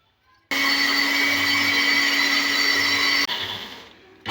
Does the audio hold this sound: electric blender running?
yes